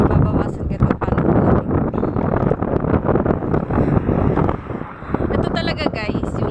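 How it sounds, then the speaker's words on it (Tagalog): Strong wind buffets the microphone in loud, rough gusts outdoors on a street, while a person talks continuously over the roar. "so sobrang hangin"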